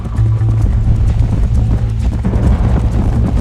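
Galloping horse hooves in Red Dead Redemption, a steady loud drumming of hoofbeats with a blustery wind-like rush, close and unbroken across the few seconds.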